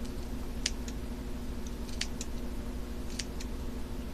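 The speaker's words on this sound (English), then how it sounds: "I go in with my scissors at a slant and cut slits" Scissors snip slanted slits down a strip of washi tape for DIY earrings, giving a handful of short, crisp clicks spaced irregularly over a steady low background hum.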